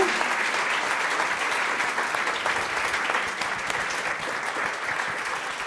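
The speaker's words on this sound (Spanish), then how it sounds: "un gran aplauso para ellos, que son los proyectazos" An audience applauds at an animation-industry event, a continuous, full wash of clapping that holds steady across the whole stretch and eases only slightly near the end, with no voices over it.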